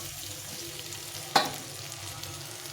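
Potatoes fry in oil with a soft, even sizzle close by, broken once by a sharp metallic clink from a utensil.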